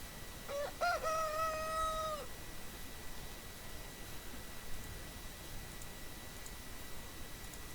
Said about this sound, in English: you guys just hear that rooster?